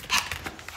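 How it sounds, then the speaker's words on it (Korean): A pet dog barks indoors at home while another dog is present: one short, sharp bark near the start, followed by softer panting and whimpering sounds, close by. "아빠한테 다른 강아지가 있으니까 짖어?"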